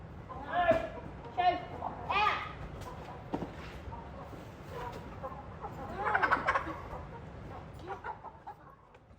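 Chickens on a farm cluck and squawk in several short, loud bursts, with more clucking gathering near the end, all over steady low background noise.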